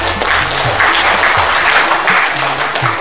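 A crowd at an open plenary meeting of the Situbondo regency election commission (KPU) claps together in a dense, steady burst of applause that lasts about three seconds.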